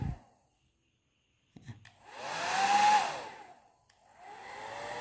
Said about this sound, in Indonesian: kita masukkan ke mode pengering paling tinggi lur ya, di 1200 watt lur ya